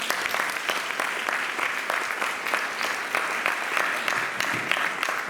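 Steady audience applause fills a hall at a 2019 birthday celebration in Bradford, dense and continuous from start to finish with no voices over it.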